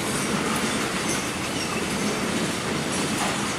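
A train rumbles past with a steady, dense roar and faint clickety-clack of wheels, continuous and fairly close, with no voices.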